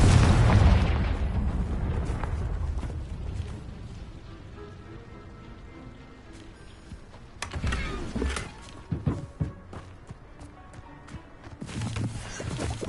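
Confringo fire spell from Hogwarts Legacy bursting in a loud blast at the start that fades into a long rumbling tail, followed later by a cluster of sharper crackling impacts.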